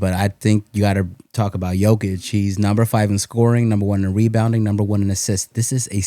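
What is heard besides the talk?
None of the usual background noises is heard.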